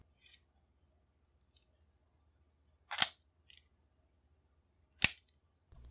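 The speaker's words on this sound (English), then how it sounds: "When all rounds are fired, and the cylinder is swung out, the spent casings can be ejected all at the same time with a spring-loaded plunger." A Lebel Mle 1892 revolver has its cylinder swung out and the spent casings pushed out together by a spring-loaded plunger, giving two sharp metallic clacks about two seconds apart, close and loud, with faint small clicks between.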